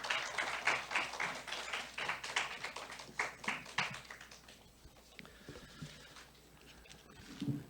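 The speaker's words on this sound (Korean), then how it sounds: "큰 박수로 환영해 주시기 바랍니다" An audience at an indoor forum applauds to welcome a professor. Quick, dense clapping fills the first few seconds, then thins out and fades into quiet room tone.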